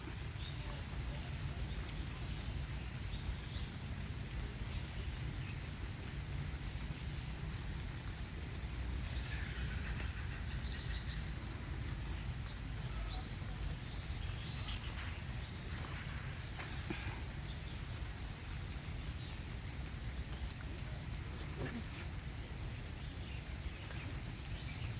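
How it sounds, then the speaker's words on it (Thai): Steady rain falls at That Luang in Vientiane, Laos, a constant soft hiss with low rumbling texture and scattered drips, faint and even across the whole stretch. "ฝนตก"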